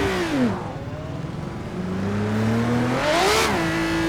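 A race car engine in Project CARS 2 revs loudly, its pitch sweeping down and then climbing again in smooth surges, with no voices.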